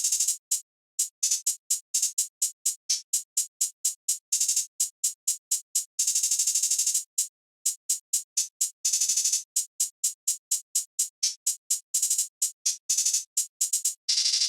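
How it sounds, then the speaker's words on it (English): Trap beat hi-hat pattern, crisp bright ticks in steady rapid runs with brief rolls and short gaps, played alone and fairly loud throughout. "the finished hi-hat pattern is sounding like this"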